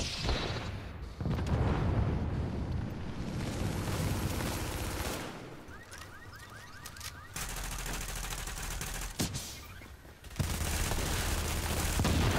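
Explosive-round gunfire in The Division's Dark Zone, sustained loud bursts of rapid shots and booming impacts that roll on through the whole stretch with brief lulls, no voices.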